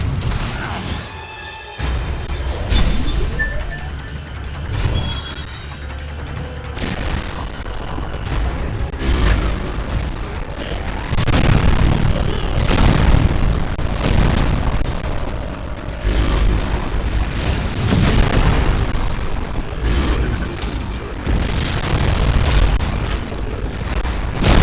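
Missile fire and explosions during a boss fight in the video game Metroid Other M on the Nintendo Wii, a dense, continuous roar of booming blasts and mechanical rumble that stays loud throughout.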